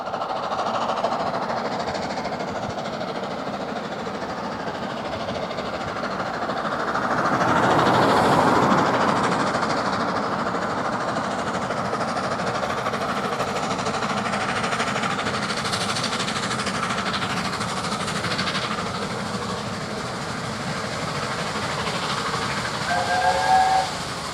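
Steam and diesel trains working on preserved railway lines, a long stretch of chuffing, hissing steam and rumbling wagons that swells loudest partway through, with a brief whistle toward the end.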